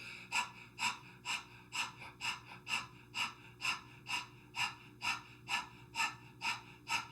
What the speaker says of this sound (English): So keep the breath going, keep panting like a dog.